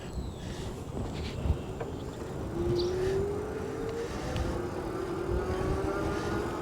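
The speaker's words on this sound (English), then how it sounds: "So the acceleration is fairly gradual, nice and quiet with the motor." Bandit Pacer electric bike climbing a hill under twist throttle, its hub motor giving a quiet, steadily rising whine over continuous wind and road rumble as it gradually gains speed.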